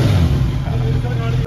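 Honda CBR650R superbike engine running steadily with a low, continuous rumble, revved lightly at close range on delivery day, with people talking over it.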